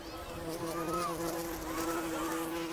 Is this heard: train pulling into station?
no